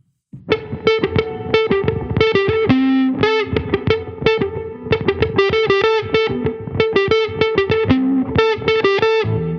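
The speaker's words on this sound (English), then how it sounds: "I dialed in a fairly low fuzz. I would say it's a low gain fuzz." Electric guitar through a Dophix Medici Dual Fuzz pedal set to low gain, playing a busy run of plucked notes with a few held tones, loud and close with no voices.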